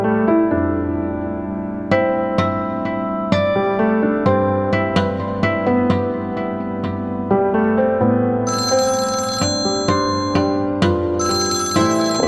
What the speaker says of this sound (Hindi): मैं हारिस को फोन करता हूँ।